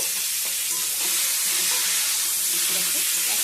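Pointed gourd (potol) frying in a pan gives a steady, loud sizzle, with scraping and clicking from stirring scattered throughout.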